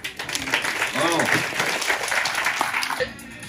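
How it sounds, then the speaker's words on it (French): A campsite audience applauds a magician's act with a short burst of clapping mixed with someone talking over a loudspeaker, the applause fading after about three seconds. "les gens, pour vous encourager, ils vous applaudissent encore une fois"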